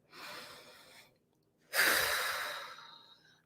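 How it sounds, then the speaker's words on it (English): A deep, slow inhale is followed by a louder, longer exhale that sounds like a sigh, breathed close by with no talking and a short pause between the two breaths. "let's take a deep breath, as always"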